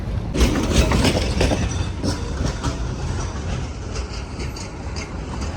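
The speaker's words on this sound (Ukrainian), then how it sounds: "Просто ці, знаєте, такі трамвайчики, таке все гарне." A tram rolls along a city street in Lviv, close and loud, with rhythmic wheel clatter over rail joints and a low rumbling drone that eases slightly toward the end, with no one talking.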